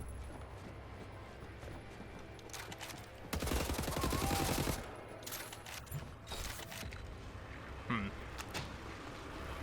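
Gunfire in the video game Wolfenstein The New Order: a burst of rapid automatic shots lasting about a second and a half in the middle, with a few scattered sharp hits before and after over quieter game ambience.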